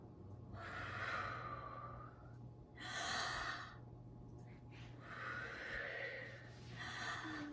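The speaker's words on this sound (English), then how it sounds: "you want to take at least 3, but 5 is even better, real deep breaths" Child taking slow, deep belly breaths, hands on tummy: four long breathy inhale-exhale swells about two seconds apart, close and soft over a steady low hum.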